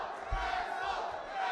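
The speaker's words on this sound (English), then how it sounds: "The crowd's chanting wrestle" An amateur fight-night crowd in Auburn chants loudly in unison, a dense roar of many voices filling the arena without pause for a moment.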